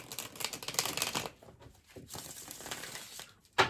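Tarot cards being shuffled by hand, with riffling and papery flicks in uneven bursts and a sharper snap near the end.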